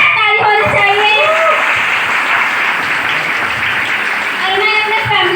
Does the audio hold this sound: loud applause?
yes